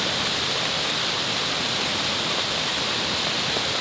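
Strong floodwater plunges over a steep ravine edge in a constant heavy roar, a thick unbroken rush that stays loud and even throughout with no talking.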